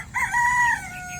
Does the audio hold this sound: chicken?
yes